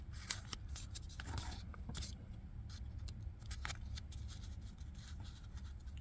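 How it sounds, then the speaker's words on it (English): Scissors snipping through tape wrapped on a DC Sports AEM short shift adapter for a 1998-2002 Honda Accord, a run of quick crisp cuts close to the mic over a low steady hum. "I'm going to cut this and leave the tape on there"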